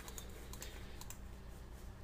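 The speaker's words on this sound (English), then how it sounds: "I'm just hitting the arrows until it's right over the top" Keyboard arrow keys tapped repeatedly to nudge a layer in Photoshop, a quick run of light, close clicks over a steady background hum.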